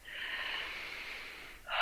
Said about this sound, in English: I take a nice, slow, deep breath